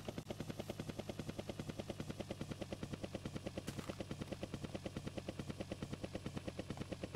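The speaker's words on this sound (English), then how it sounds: "I can hear a helicopter coming." Helicopter arriving in a Minecraft horror map video game, its rotor beating in a fast, steady rhythm throughout, loud and unbroken with no voices over it.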